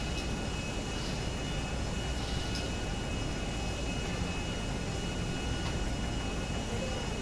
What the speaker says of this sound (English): See the shadow of my aeroplane.